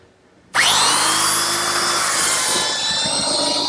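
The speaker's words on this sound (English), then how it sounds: "I can use my belt sander. And I've clamped both of the members in the vise, and I'll just sand them together nice and smooth." After a moment of quiet, a belt sander starts abruptly and runs loud and close, smoothing two wooden members of an English garden bench clamped together in a vise, its whining drone holding steady to the end.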